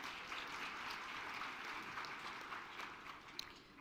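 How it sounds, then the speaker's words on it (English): A graduation audience applauds, a dense, steady wash of many hands clapping at an even level throughout, heard from within a large hall. "Give yourselves another warm round of applause"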